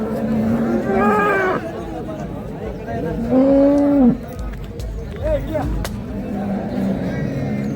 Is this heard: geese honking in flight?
no